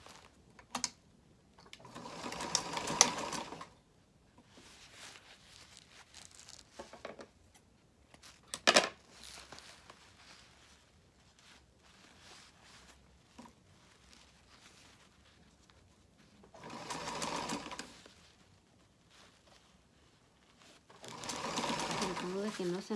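A sewing machine stitching the collar of a child's cape, with several short bursts of rapid stitching separated by pauses, and someone speaking quietly between runs.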